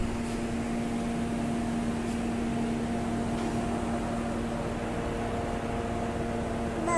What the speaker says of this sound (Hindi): कूलर चला लिया हमने, कूलर के सामने खड़े हुए हैं।